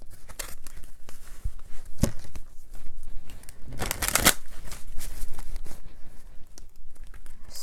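Tarot cards are shuffled and drawn for a reading, giving close, crisp riffling and papery slaps in irregular bursts, with one louder flurry of shuffling midway and no talking.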